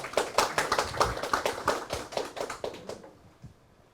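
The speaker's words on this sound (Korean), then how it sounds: "이용선 국회의원님 큰 박수로 맞이해 주시기 바랍니다." An audience at a district labor-policy forum applauds to welcome a National Assembly member, a brisk burst of clapping from a modest crowd that thins out and stops about three seconds in.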